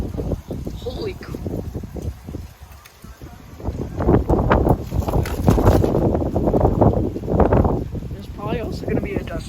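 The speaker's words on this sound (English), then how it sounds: "How windy it is." Strong gusty wind during a severe thunderstorm roars across the microphone in continuous loud rushes, building in the second half, with a person speaking over it.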